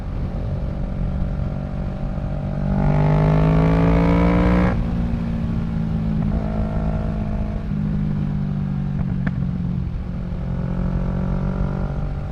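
A Kawasaki Z650 fitted with a Yoshimura Alpha exhaust revs loudly close by, its pitch climbing steeply then dropping back to a rumbling idle, followed by a couple of shorter, gentler blips of the throttle.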